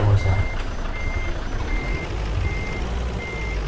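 Reversing alarm on a Mercedes 1626 truck in Euro Truck Simulator 2, a steady series of evenly spaced beeps repeating over a low engine rumble, with no talk.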